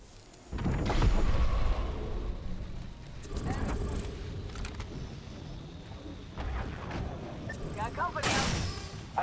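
Rapid gunfire in the video game Apex Legends, loud bursts and sustained shooting with mechanical clatter, mixed with game effects and a sharp burst near the end.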